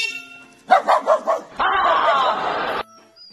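A mother dog and her puppy give a quick run of yips and whimpering barks, followed by a longer stretch of harsh, noisy sound nearby.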